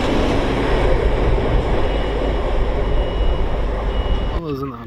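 Class 66 freight locomotives on the East Coast Main Line near Doncaster roar past close by in a loud, steady rumble of diesel engines and rolling wagons that cuts off abruptly near the end.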